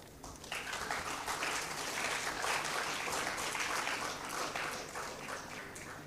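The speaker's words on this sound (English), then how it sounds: "Please give them a huge round of applause." At an international maritime symposium, an audience gives a full round of applause, dense and even clapping that starts promptly and carries on steadily for several seconds with no talk over it.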